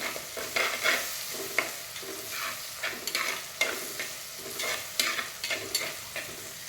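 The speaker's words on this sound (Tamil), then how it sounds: "தக்காளியும் வெங்காயமும் நல்லா வதங்கிட்டோம்." Tomatoes and onions sauté in a pan for an Onam recipe, giving a soft continuous sizzle broken by repeated scraping strokes of a spoon stirring, fairly close and moderate in level, with no voices.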